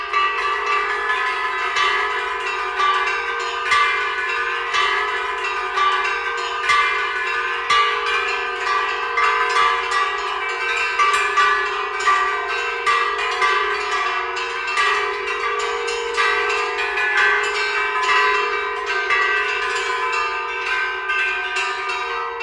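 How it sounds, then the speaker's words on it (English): Hand bells ring continuously in a dense, overlapping peal of repeated bright strikes and sustained tones, loud and close, with no voices. "that bloody inexorable little bell"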